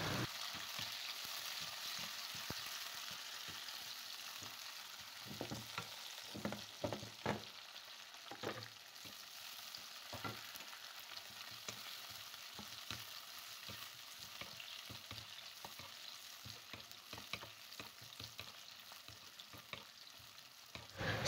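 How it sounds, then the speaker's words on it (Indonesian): Chili, garlic and shallots stir-fried in a pan, a steady sizzle running throughout with irregular scraping and clacking strokes of a spatula, close and continuous with no voices. "Begitu bawang putih bawang merahnya warnanya sudah berubah kecoklatan ya. Ditumis lagi sebentar."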